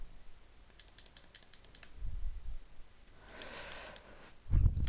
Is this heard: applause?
no